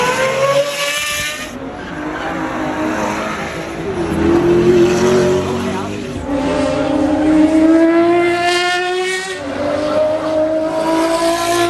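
Race cars roar past at the Goodwood Festival of Speed, loud continuous engine noise with rising revs, tyre squeal and overlapping passes close by, one car sweeping through after another without pause.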